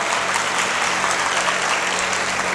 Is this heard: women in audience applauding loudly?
yes